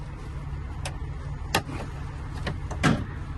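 A few sharp, close clicks of a battery connector on a 2021 Tesla Model Y Long Range, spaced irregularly over a quiet background hum.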